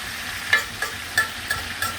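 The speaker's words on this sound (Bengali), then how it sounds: "মাংসগুলো কষে নেব। এভাবে অনেকক্ষণ" Goat meat being stir-fried with spices in a pan: a steady sizzle with a regular scrape of the spatula about every half second, close and clear, with no talking.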